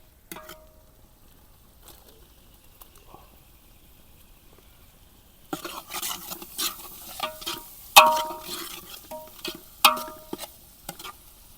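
After a near-silent stretch, chili and garlic paste hits softened onions in a pan at a village cooking spot, bringing sizzling plus repeated spatula scrapes and metallic clinks.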